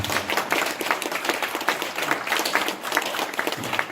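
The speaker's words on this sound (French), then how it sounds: "Je voudrais aussi qu'on remercie une dernière fois par vos applaudissements nos deux intervenants et les organisateurs de la soirée qui sont partis" Audience applause closing an evening event, many hands clapping in a lively, slightly uneven patter that holds steady for several seconds.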